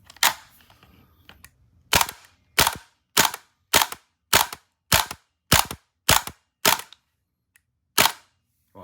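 A Krytac Kriss Vector gas blowback airsoft rifle fires ten sharp, loud single shots in an even rhythm, then a pause before a final shot, each crack followed by a brief mechanical clack.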